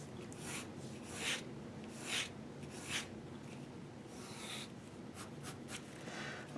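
Pencil sweeps across paper while drawing hair on a face, with soft scratchy strokes in a steady rhythm close up and a few louder swooping passes, no voice.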